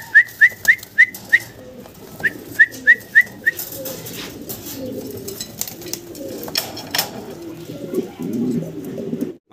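Bokhara and Afshan grizzle racer pigeons call in two quick bursts of short repeated notes, followed by low murmuring coos and rustling nearby.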